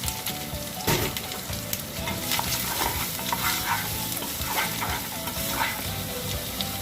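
Onions sizzling and frying in a pan, stirred with repeated scraping and crackling, close and busy throughout.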